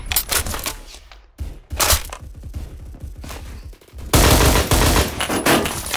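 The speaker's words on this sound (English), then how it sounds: "how is the Uzi that good?" Uzi submachine gun firing in the video game Phantom Forces, rapid rattling bursts broken by short pauses, then a loud sustained stream of shots at the end, close and punchy.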